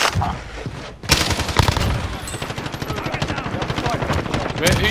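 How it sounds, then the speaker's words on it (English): Automatic gunfire in the Warzone battle royale video game, dense rapid bursts of shots running nearly the whole time, loud and close, with a brief gap early on and speech-like sounds mixed in. "Where are you shooting, Sook?"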